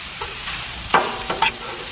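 Shaved ribeye, bell peppers and onions with olive oil sizzle loudly on a Blackstone griddle for cheesesteaks, a close steady hiss broken by a few sharp spatula scrapes and clicks.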